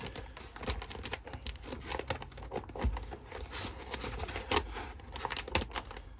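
Old bottle wrapping material being cut through, giving a run of close crinkling, snipping and crackling sounds with sharp clicks and rustles, no talking.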